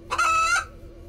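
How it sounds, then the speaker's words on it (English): A cartoon chicken gives a short, loud squawking cluck at close range, a single burst lasting about half a second over a quiet background. "is a chicken?"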